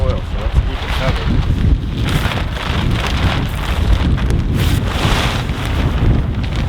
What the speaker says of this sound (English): Don't know if it's supposed to be this windy, but this wind will dry out the soil